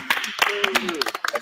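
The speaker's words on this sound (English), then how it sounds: "We're clapping for the rich guy?" Several people clap in scattered, uneven bursts while voices talk loudly over them close by.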